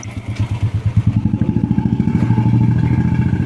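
A motorcycle engine on an old restored scrap bike chugs in rapid, steady pulses, close and loud, rising slightly in pace as it pulls away on a test ride.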